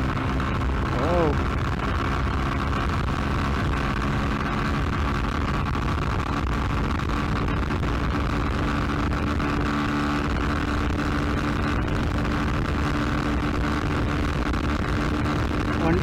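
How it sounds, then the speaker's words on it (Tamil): Yamaha R15M V4 motorcycle ridden at top speed in the evening with a roughly 80 kg rider sitting upright, a steady roaring wind blast buffeting the microphone over a constant droning engine, with no breaks throughout. "ஈவினிங் டைம்ங்கிறதுனால ஓவராக வந்து காத்தடிச்சிருக்கு, பேலன்ஸ் பண்ண முடியாத அளவுக்கு."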